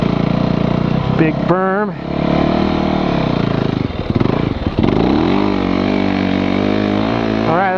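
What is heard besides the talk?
motorcycle riding and revving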